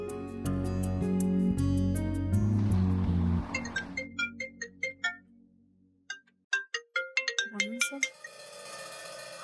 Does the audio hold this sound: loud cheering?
no